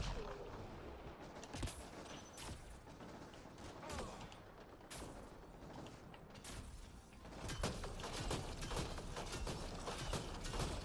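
Remnant Scattershot shotgun in Mass Effect Andromeda firing repeatedly, with sharp blasts scattered through a dense, busy game soundscape of mechanical clatter, growing louder and denser toward the end.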